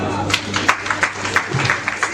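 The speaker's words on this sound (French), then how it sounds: "Vos applaudissements, s'il vous plaît." Steady applause from a crowd at an official ministry closing ceremony, individual claps forming a regular rhythm, moderately loud and fairly close.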